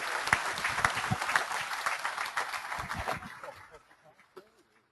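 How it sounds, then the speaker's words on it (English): An audience at an amateur radio gathering gives a round of applause for ICOM and a ham radio operator, a dense patter of clapping that holds steady, then thins out and fades to near silence over the last second or two. "Nice round of applause for ICOM and Ray Novak"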